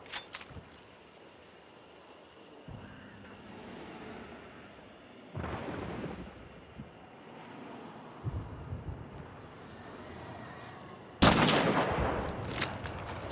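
Gunfire in a bounty hunt video game: several muffled bursts of shots, the loudest crack coming near the end, with a quiet ambient bed between them.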